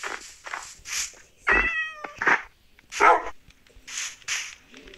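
Cat meowing in the Minecraft video game, several short, clear meows spread across the clip, some with bright tonal cries, with no talking.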